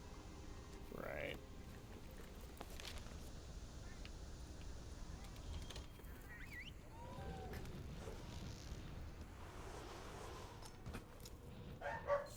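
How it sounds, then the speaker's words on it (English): A dog barks faintly in the background, giving a few scattered, muffled barks and yips that sit low under a steady room and game-sound bed. "the dog's barking again"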